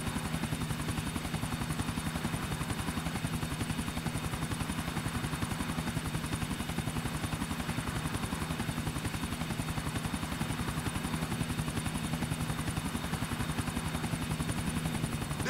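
A helicopter in the video game GTA IV chops on continuously with a steady rotor thump at moderate level, unbroken throughout with a constant droning hum beneath.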